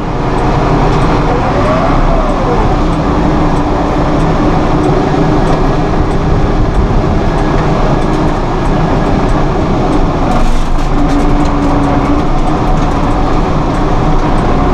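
A 2012 Massey Ferguson 2680HD utility tractor runs close by with a constant heavy engine drone and hydraulic whine as the loader lifts, loud and continuous throughout.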